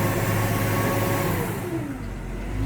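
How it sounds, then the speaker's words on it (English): Deutz 6135 tractor engine running with its exhaust prominent: a steady, close mechanical drone with a tone that slides slightly, easing a little in loudness toward the end. "I notice the engine's a little bit louder than say a 6155 or something like that. You can hear the exhaust a little bit more."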